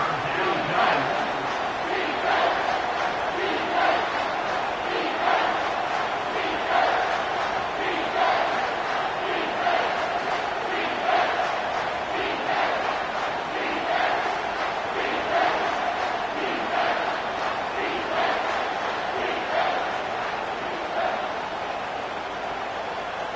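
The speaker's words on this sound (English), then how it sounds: "this crowd will blow out a vocal cord to help this defense" A football stadium crowd roars steadily on third down, a dense, loud, sustained wall of cheering and shouting with rhythmic surges throughout.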